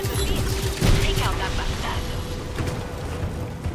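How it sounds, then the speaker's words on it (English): Gunfire and battle noise in the open-world action game Just Cause 3 form a loud, continuous wash of rumbling shots and blasts, with a heavier burst near the one-second mark. "We'll just shoot."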